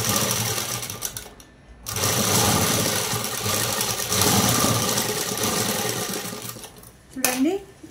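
An electric sewing machine stitching the neckline of a ready-made dress, a loud steady whirring hum running in long stretches with brief pauses between runs and someone speaking near the end.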